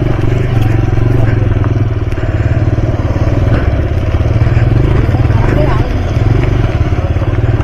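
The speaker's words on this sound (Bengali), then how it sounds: "বাইক দিয়ে উড়িয়ে উড়িয়ে যাবো ভাবলাম" A motorcycle ridden over a rough, poorly kept road near a railway crossing by Nalpur station: a loud, steady engine drone close by, with rattling and clattering from the bumpy surface running throughout.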